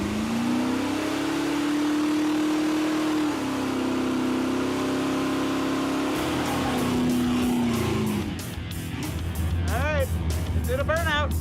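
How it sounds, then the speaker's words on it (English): A Pontiac Firebird barn find doing a burnout on round tires, its engine held at a loud sustained roar, then dropping and revving again while tires squeal in repeated bursts toward the end. "Did a burnout."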